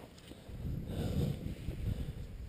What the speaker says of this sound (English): The wind is picking up a little bit.